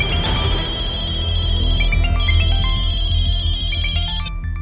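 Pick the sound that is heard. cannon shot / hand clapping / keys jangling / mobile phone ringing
mobile phone ringing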